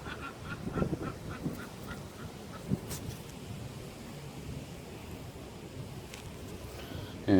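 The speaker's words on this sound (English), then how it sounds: "This is where the ducks get fed by all the people who just stop with the old bread." Ducks quacking by a mountain stream, a few scattered honking quacks early on over the running water's steady rush, then mostly the flowing stream alone.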